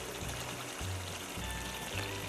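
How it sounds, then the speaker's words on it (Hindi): Water is poured into chicken gravy cooking in a pan, a steady, moderately loud liquid rush with low bubbling tones running through the whole stretch and no talk. "अब इसके अंदर मैं थोड़ा सा पानी डाल देती हूँ।"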